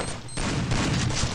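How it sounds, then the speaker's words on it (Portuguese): Rapid gunfire in a multiplayer shooter game, a short burst of loud shots after a brief lull, dense and close with a booming low end. "Um tiro."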